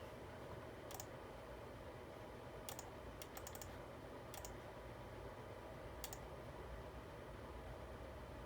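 Quiet keyboard typing as a calculation is entered: a few scattered key clicks, then a quick cluster of taps, then a last click, all faint over a steady background hiss.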